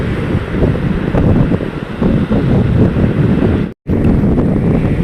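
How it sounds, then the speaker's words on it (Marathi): A rough monsoon sea off the Devgad coast churns with a loud, constant roar and heavy wind buffeting the microphone, broken by a brief dropout. "केसाळलेला समुद्र"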